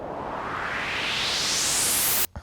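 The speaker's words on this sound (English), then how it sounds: "That noise riser, that's an instance of operator here." A synth noise riser built on an operator instrument, its filter frequency automated upward so the hiss brightens steadily for about two seconds before cutting off abruptly, loud and alone in a trap music production.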